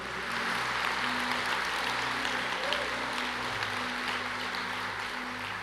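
Congregation applauding during a church sermon, a steady wash of clapping that fills the space, moderately loud and continuous, with faint tonal hum or music held underneath.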